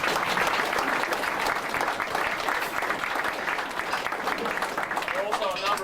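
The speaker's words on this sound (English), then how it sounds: "a round of applause for those 4 major sponsors" Round of applause for the major sponsors at a jet sprint boat racing event in Mildura, continuous crowd clapping at moderate distance, steady for several seconds with a brief voice near the end.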